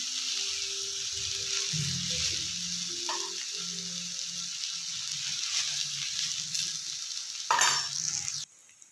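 Rava uttapam frying in oil on a pan, a continuous hiss of sizzling with low intermittent scraping as it is turned, and a brief louder clatter near the end.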